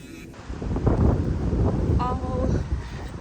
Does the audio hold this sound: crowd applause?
no